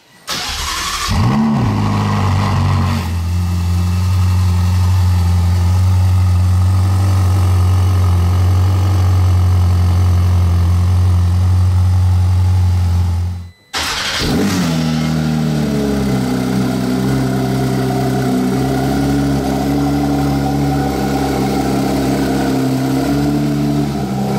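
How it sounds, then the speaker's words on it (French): A Ferrari 488 starts with a loud, sharp crank and burst, then settles into a steady, deep idle. After a brief cutoff it fires again and idles on with a slightly shifting tone. "on a débranché cette 488. On va se faire un petit kiff, le petit start-up"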